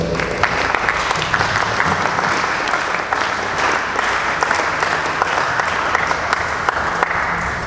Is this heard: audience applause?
yes